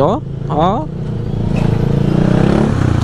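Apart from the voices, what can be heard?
motorcycle engine idling and shaking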